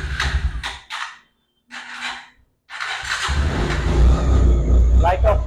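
A Suzuki or Pulsar motorcycle at a wholesale dealer in Uttara, Abdullahpur, starts up and revs with a loud, steady engine roar. Speech-like sounds come first, then a short quiet gap before the engine catches.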